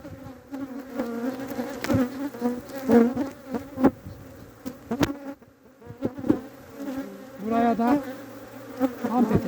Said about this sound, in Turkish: Arılar baktırmaya müsaade etmiyor.